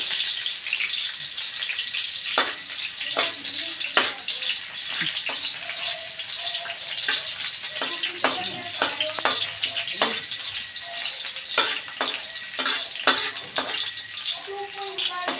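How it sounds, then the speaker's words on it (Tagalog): Onions and then tomatoes frying in a home-cooked Filipino dish, a steady close sizzle with clinks and scrapes of stirring throughout, people talking faintly in the background. "Ihulog ng sibuyas. Yun naman kamatis."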